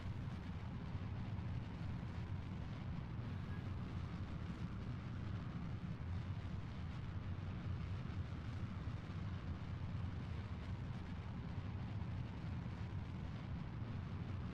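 A rocket launch in a space flight game, a steady, loud low roar of engine thrust that holds evenly with no breaks from start to finish.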